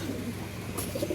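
Racing pigeons in a loft give a soft, brief low coo, faint and close, with no talk.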